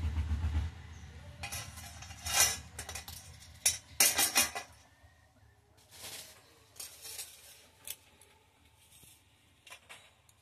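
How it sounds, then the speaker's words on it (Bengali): Crisp fried gram flour snacks (besan jhuri bhaja) clatter and crunch in a quiet kitchen, heard as sharp, scattered rustling bursts close by, separated by short gaps. "কত সুন্দর আওয়াজটা হচ্ছে দেখুন, মচমচে মচমচে হয়েছে"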